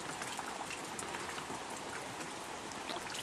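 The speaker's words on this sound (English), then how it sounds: "it doesn't look like there's any signs of slowing down on the rain" Light rain from Hurricane Florence falls steadily in South Carolina, a soft, even hiss of droplets pattering on surfaces, with no voices.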